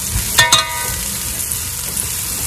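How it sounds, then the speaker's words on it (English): Chopped onions frying in hot olive oil in a pan, a steady close sizzle with a brief louder burst of crackle and stirring near the start, then an even hiss throughout. "I want to add my onions and start to sweat them"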